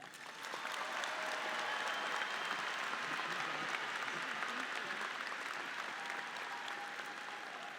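Sustained applause from an audience at a spring 2023 student commencement ceremony, steady and full for several seconds after a speaker is introduced, with faint crowd murmur and no clear talk.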